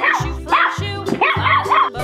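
A dog barks loudly and close, about four sharp barks in a quick, even rhythm with no talk.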